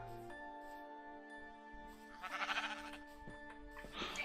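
Sheep bleat in the Minecraft video game, two or three wavering cries that come close and fairly loud over a quiet game backdrop with a faint jingle.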